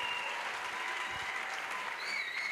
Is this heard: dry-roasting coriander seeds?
no